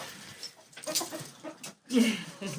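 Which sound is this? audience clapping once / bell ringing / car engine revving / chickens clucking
chickens clucking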